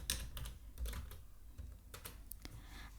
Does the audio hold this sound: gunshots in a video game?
no